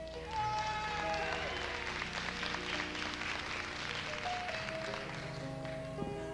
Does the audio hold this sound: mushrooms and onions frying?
no